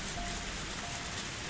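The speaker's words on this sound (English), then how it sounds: "I didn't think it would rain so hard" Heavy rain falling steadily in the video game Higurashi, a dense, even hiss of drops hitting surfaces, loud and unbroken throughout with no voices.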